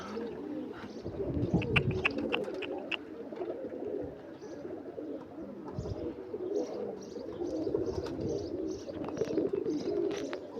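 Several pigeons coo repeatedly nearby, soft throaty calls overlapping with occasional chirps over a low outdoor background.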